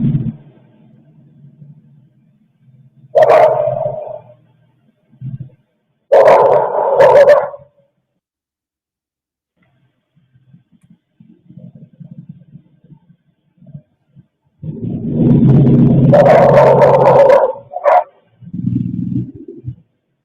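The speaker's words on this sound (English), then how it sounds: "There's 2 dogs barking." Two dogs bark outdoors in separate bursts of loud barking with quiet gaps between them, one dog closer and one farther away, plus some lower yips and whines.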